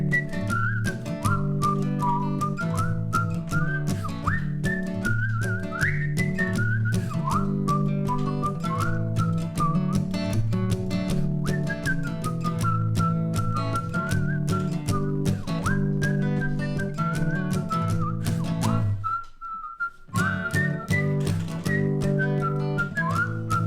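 People whistle a song together as a sustained, steady melody for over twenty seconds during a live-streamed home concert, breaking off briefly near the end before resuming.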